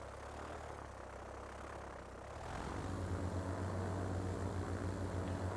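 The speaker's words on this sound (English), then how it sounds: "Alright, our plane is taking off, curving to the left, and heading straight for Tehran" A propeller airplane taking off in the train-and-transport simulation game Transport Fever 2, its engine hum swelling from a quiet drone into a louder, steady roar partway through.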